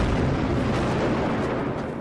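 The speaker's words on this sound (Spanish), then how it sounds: "Las líneas taladradas dirigen con precisión la fuerza explosiva" Explosive blasting of unwanted granite along drilled lines at a quarry on Mount Rushmore: a loud, continuous broadband roar and rumble of the blast and falling rock, with no voices.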